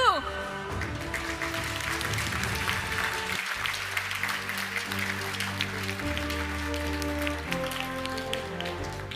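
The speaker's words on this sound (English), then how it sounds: "this round of applause is for you" An audience at the 2025 IJSO international science olympiad opening ceremony applauds for delegation leaders, jury members and mentors, the clapping blending with loud ceremonial music throughout.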